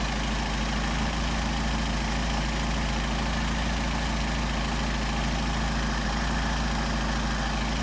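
Car engine fitted with Solex 44PHH carburetors idling at about 700 rpm, a loud, close, steady low rumble with a constant mechanical hum and no change throughout.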